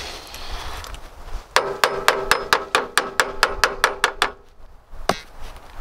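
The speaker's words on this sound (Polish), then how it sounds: "Daj mi młotek, czy ten rozluźnik." Hammer blows on metal during tractor repair, about a dozen sharp ringing strikes in a steady rhythm, close and loud, then a pause and one final hit, with no voices.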